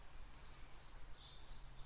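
Cricket chirping in the video game We Become What We Behold: five or six short, bright, even chirps repeating steadily on their own over a faint low hum.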